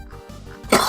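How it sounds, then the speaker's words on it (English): A single person coughs once, a short throaty rasp ending in a louder, sharper burst, close to the microphone with nothing else around it. "If you hear me coughing a lot,"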